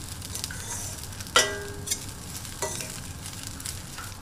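Fried bitter gourd stirred into a pan of gojju, a soft steady sizzle with a sharp scrape-and-clatter of the spoon near the middle and a lighter knock a moment later.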